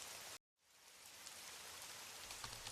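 Steady rain falls on a surface in a dense, continuous hiss of drops, broken by one short moment of silence near the start before the downpour resumes at an even, moderate level.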